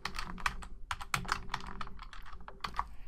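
Quick, close typing on a computer keyboard, a rapid irregular run of sharp key clicks heard on their own.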